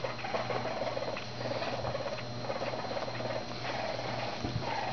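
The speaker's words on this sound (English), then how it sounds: "That's purring." Soft, continuous purring from a baby raccoon with a faint fluttery patter, close by and steady throughout, with no voices.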